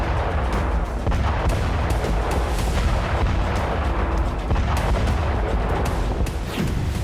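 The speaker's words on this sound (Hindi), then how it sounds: "एक के बाद एक कई धमाके हुए, कई इमारतों में आग लग गई।" Missile strikes on Kyiv during the Russia-Ukraine war produce a continuous barrage of loud, booming explosions and sharp blasts, one after another, with rumbling low-end noise throughout.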